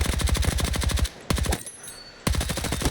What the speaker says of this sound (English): It's the MP5. Why is an SMG able to beam people like this?